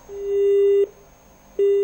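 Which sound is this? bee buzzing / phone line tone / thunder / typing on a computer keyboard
phone line tone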